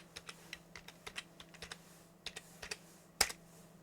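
Typing on a computer keyboard during a Linux install: a run of soft, quick, irregular key clicks close by, closing on one sharper keystroke, with no talk.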